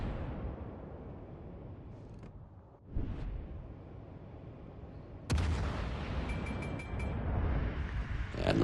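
Naval artillery booms out in the World of Warships: Legends video game: two heavy broadband blasts, a few seconds apart, rise over a low rumbling background, with the second followed by sustained noise and faint high-pitched tones.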